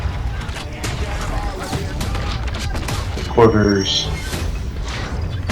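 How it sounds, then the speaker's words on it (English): Artillery fire from an EA war video game trailer plays at a live press event: dull booms and rumbling blasts under a mix of game audio and a voice briefly talking. "Oh, you can actually do artillery?"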